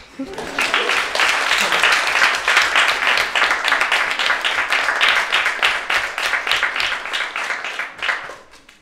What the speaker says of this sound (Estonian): nii et ma siis palun meil aplausi.